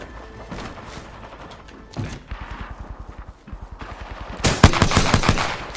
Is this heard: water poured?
no